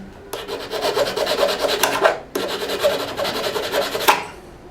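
A file rasps back and forth on a homemade arrowhead to sharpen its edge, two long bursts of close, rhythmic scraping strokes separated by a brief pause, with no voices.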